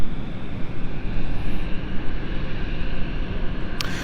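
A Belfast-route airliner taxis around onto its stand at London City Airport, a steady engine roar with a continuous whine, close and moderately loud throughout.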